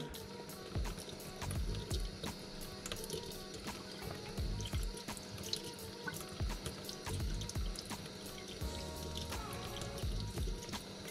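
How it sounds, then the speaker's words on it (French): Running tap water soaks a spool of braided fishing line in a sink, a continuous close splashing and trickling with irregular drips and gurgles. "je vais prendre la bobine et je vais aller la faire tremper au robinet"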